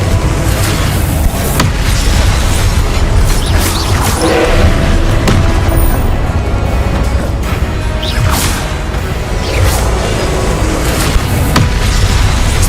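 Blasting-curse explosions in the Hogwarts Legacy video game, a dense run of loud booms, crashes and thuds over a constant low rumble, with sharp bursts every second or two and whooshing sweeps between them.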